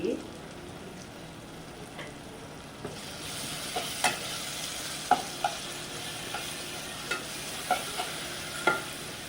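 Tomatoes softening and frying in a pan, with a quiet continuous sizzle and scattered scraping taps as a spoon stirs them.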